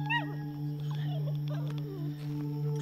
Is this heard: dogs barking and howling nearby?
yes